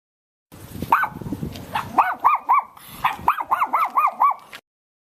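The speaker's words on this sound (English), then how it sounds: "D for dog." A dog barks in a quick series of sharp, close yaps, a few spaced out at first and then coming in rapid bursts with no talking.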